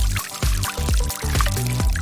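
Water pours into a small toy bath in a series of short gurgling bursts, each a second or less, with clinks and splashes between them, close and fairly loud with no voices.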